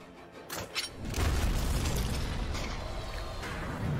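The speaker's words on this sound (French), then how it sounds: "Il y a une autre explosion qui se fait." An explosion effect in a tabletop role-playing game: a couple of sharp bangs, then a deep, sustained rumbling boom that shakes the scene, loud and alone with no talk.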